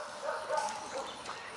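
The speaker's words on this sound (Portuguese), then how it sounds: "Já vai atrás dos cachorros." Dogs barking and yipping excitedly at close range during play, several short yaps in quick succession over a busy background.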